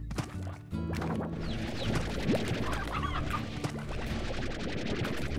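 Chickens in the farming video game Slime Rancher cluck constantly and overlap one another, close and steady, over the game's ambient background noise.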